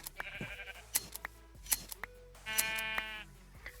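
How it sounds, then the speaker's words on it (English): Sheep in the Minecraft video game bleat several times while wool is being sheared, with two long wavering bleats and short clicking game sounds between them, with no talking. "now I'm gonna go find a bunch of sheep and shear as much wool as I can"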